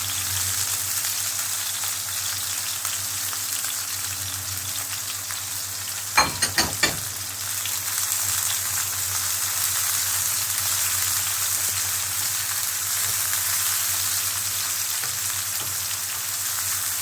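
Onions frying in a pan for a saffron-rice seafood dish, a steady soft sizzle throughout with a brief burst of stirring clatter partway through, no voices.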